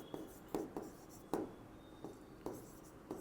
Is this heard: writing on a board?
yes